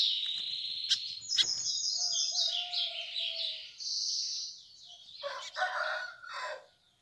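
A pet bigodinho, or lined seedeater, sings in its cage up close, giving bright rapid chirps and trilled whistling phrases with short pauses between them.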